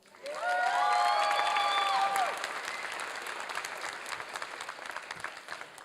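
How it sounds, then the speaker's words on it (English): A graduating class applauds at a 2022 Ethnic Studies commencement ceremony, a loud burst of crowd clapping with some cheering and whistles that peaks early, then tapers into a lighter, scattered patter. "Give ourselves a round of applause."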